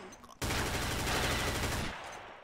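A 12-gauge Biohazard shotgun in a video game lets loose a loud, sustained burst of dense gunfire lasting about a second and a half, with rapid overlapping blasts after a brief quiet lead-in.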